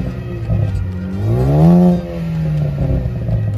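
A Ford Focus ST with around 250 horsepower revs up close by, its engine note climbing to a peak and then settling back to a steady idle.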